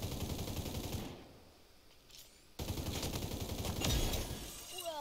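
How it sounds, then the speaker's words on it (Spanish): Rapid bursts of video game gunfire crackle through the mix, loudest toward the end, with a sharp break in the middle and no talking over it. "acabo de oír disparos"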